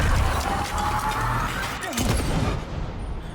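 Gunfire in the video game Alan Wake 2 sounds as a dull boom over dense, continuous game noise and rumble, close and fairly loud.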